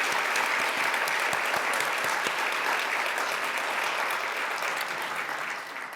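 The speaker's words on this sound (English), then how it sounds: "please join me in giving them a round of applause" An audience at a tax section plenary keynote and awards session claps steadily and loudly for about six seconds, the applause thinning slightly toward the end.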